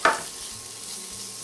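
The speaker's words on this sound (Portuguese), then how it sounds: "Agora nós vamos fritar levemente esse bacon, tá?" Chopped bacon slices frying lightly in a pan, a short burst of sizzle and stirring at the start that settles into a steady low crackle, close and alone.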